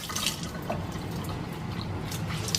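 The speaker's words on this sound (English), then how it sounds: "Just wet the paper towel." Tap water runs onto a paper towel before the rim of a canning jar is cleaned, a soft continuous splash and patter, close and fairly loud.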